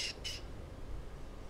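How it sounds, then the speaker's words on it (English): Two short, high bird chirps sound at the very start, followed by steady outdoor background noise. "there's something in there, I can hear it chirping away"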